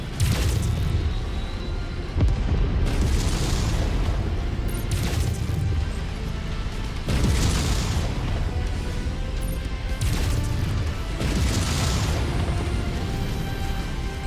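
An enemy mech exploding in Mechwarrior 5: Mercenaries, several heavy booms and crashes recurring in loud bursts over a steady roar of battle noise.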